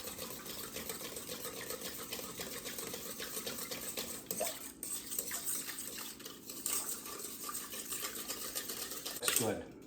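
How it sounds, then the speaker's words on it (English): Yeast is whisked briskly into a melted butter mixture, producing a rapid, continuous metallic ticking and scraping against a bowl, fairly close and steady, with a brief pause near the end. "We're just going to give this a good whisk up to get that yeast started, activated"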